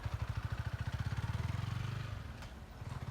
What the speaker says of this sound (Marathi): बघा गाईजने चालू केली बाईक